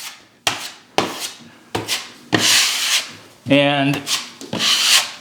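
Durabond hot-mud joint compound spread over drywall screw holes with a taping knife, a series of close scraping strokes, each a rough rasping sweep, with a brief spoken word.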